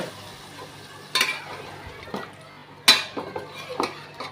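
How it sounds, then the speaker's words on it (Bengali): Fish pieces from a nola fish, including head and tail, stirred and fried in a pan, giving soft sizzling under clinks and scrapes of a utensil against the pan, with several sharper knocks spread irregularly through the clip. "মাছগুলো আমি এখন কষায় নিব।"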